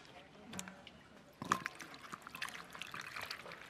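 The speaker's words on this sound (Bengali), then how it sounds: "দিদি এই গামলিতে জল দাও।" Water poured into a bowl for rinsing raw mango pieces soaked in lime water, a brief splashing trickle over a quiet kitchen background, with a couple of louder splashes midway.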